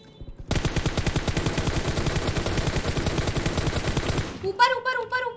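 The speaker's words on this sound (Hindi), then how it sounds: "पिछली गोली चलाई किसी ने?" Rapid automatic gunfire from the PUBG Mobile video game, a dense, loud burst of fast shots lasting about four seconds, followed by brief voice-like sounds.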